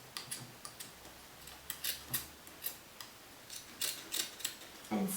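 Scissors snipping through fabric at a garment neckline during a cut-and-slash sewing technique, a series of short crisp snips spaced irregularly, close and fairly quiet with no talking.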